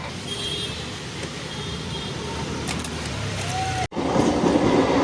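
A train rumbles past close by with a steady roar and clattering wheels, the noise swelling sharply after a brief cut near the end.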